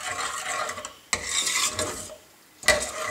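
Rabri being stirred in a pan as cardamom powder goes in: a spoon scrapes and swishes through the thick mixture, with two distinct clanks against the metal and a soft simmer beneath.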